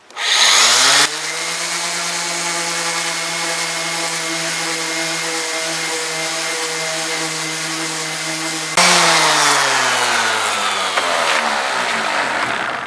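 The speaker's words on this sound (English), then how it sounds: "So I just use the RO sander." A random orbital sander works a wooden boat plank on a scarf joint, spinning up to a steady high whine with a rough sanding buzz, then easing off and briefly running harder near the end.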